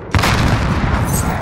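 Grenade blast in Call of Duty Modern Warfare: a sudden loud boom opens the clip and rolls into a dense, sustained roar of battle noise, close and heavy.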